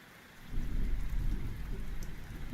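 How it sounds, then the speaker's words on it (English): Rain pours steadily over a soft, deep rumble of thunder, quiet at first and then swelling into a full, close wash of rainfall that holds to the end. "And you want rain a little quieter than it is,"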